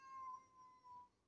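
A cat meows in a drawn-out, wavering yowl that dips briefly and rises again, quiet and somewhat distant in an otherwise still room.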